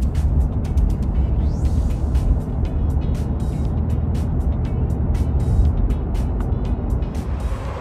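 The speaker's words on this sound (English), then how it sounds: "I do want to give you guys a road noise test. Here's without the new wheels and tires." Steady low road rumble fills the cabin of a Toyota Tacoma driving on its old wheels and tires, a constant broadband drone with faint periodic ticks, heard without any talking.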